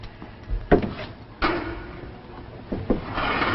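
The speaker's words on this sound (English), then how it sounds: "Now, Margaret, open the door" A door is handled in a quiet room: a few wooden knocks and a louder thud, then a creak and shuffle as it swings open, with no voices.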